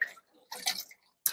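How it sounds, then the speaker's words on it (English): Crowder peas agitated by hand in a bowl of water, giving short watery splashes and sloshes in two bursts with a pause between, close and fairly quiet, no talking. "Try not to splash water all over the place."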